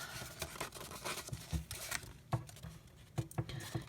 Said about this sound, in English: I shouldn't have used these gardening scissors